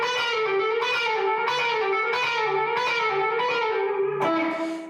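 Electric guitar lick with a distortion effect: a quick repeating run of bright, sustained, saturated notes with hammer-ons and pull-offs, steady and loud, ending on a held note that fades.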